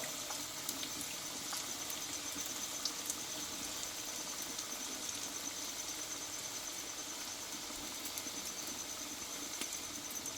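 Potato and onion pakoras frying in hot oil, giving a steady, even sizzle with faint crackles that runs unbroken throughout, fairly quiet and without any voices.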